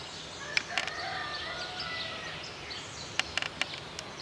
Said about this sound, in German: Es ist kurz nach 6 und hier wird man halt echt vom Hahn geweckt.